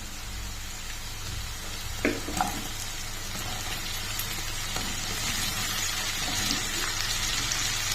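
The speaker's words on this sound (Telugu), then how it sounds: "చూసారా, ఇప్పుడు వేగిపోయాయి కదా, దీనిలో ఇప్పుడు మనము బెండకాయ పీసెస్ వేసుకుందాం." Okra (bhindi) pieces go into a hot pan for a tomato sabji, and a steady sizzle of frying follows, with a couple of light clatters near the start.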